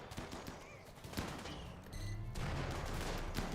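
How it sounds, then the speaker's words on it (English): Gunfire in the game Rimworld, rapid bursts of distant shots crackling in a steady volley, with several sharper reports standing out over a dense background of game noise. "And now we'll shoot at this fella."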